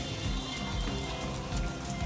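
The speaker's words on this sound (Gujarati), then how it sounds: "અને વરસાદ આવી ગયો છે" Rain falls steadily at a temple stop near Rajula, a dense, even hiss of drops on hard surfaces, close and constant, with no one speaking.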